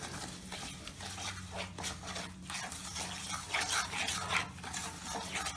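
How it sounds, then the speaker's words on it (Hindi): Spices, mango powder and salt being stirred into hot oil in a pot for turmeric pickle, a continuous scraping and clinking with faint sizzling, no talking. "अब इन सभी मसालों को हम अच्छी तरह से मिला देंगे।"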